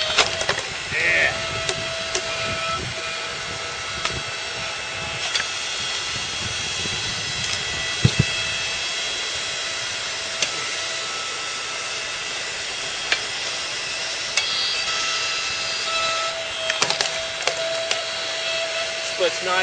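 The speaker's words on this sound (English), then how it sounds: "Splits nice and easy." A 6-ton electric log splitter works through a log, its motor giving a loud, steady hissing drone throughout, with a few sharp cracks of splitting wood breaking through.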